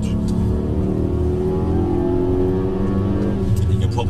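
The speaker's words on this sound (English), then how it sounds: "What's that bumping noise you can hear through the tyres?" Steady rumble of a Mercedes-Benz car rolling on tyres fouled with stuck-on rubber pickup, a continuous low road and tyre drone heard from inside the car with a faint repetitive bumping.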